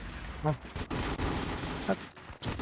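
Gunfire bursts in a first-person shooter game, short clustered volleys around mixed game noise, with Thai players talking over the action.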